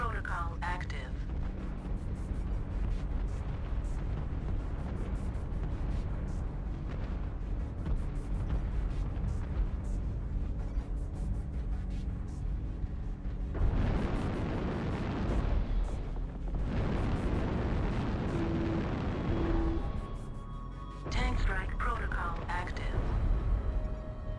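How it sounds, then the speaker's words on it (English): Tank strike explosions in a video game: heavy continuous rumbling blasts with bursts and booms, loud and sustained, broken by a brief lull before another strong barrage near the end. "Target engaged. Tank strike"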